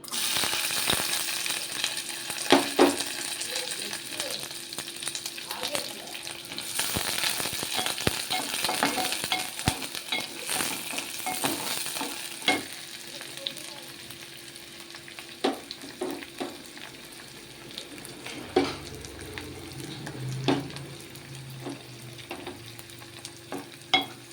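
Onions and curry leaves fry in hot oil for a broccoli curry, giving a continuous crackling sizzle with scattered sharp stirring clicks and scrapes, louder at first and then easing slightly.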